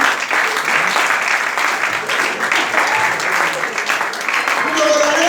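A church congregation applauds the Lord in steady, loud, sustained clapping that fills the room, with voices calling out over the applause.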